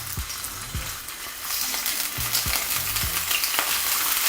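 Smoked turkey sizzles and fries in hot oil in a pan, a steady close crackle with occasional soft stirring knocks and no talk.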